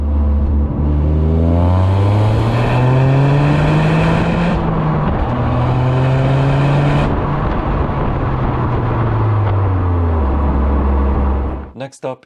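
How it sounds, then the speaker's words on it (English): A turbocharged three-cylinder engine in a Toyota GR Corolla revs loudly and close, climbing and falling through several sustained sweeps before cutting off abruptly near the end. "Starting with the smallest engine, a turbocharged 3-cylinder in the GR Corolla."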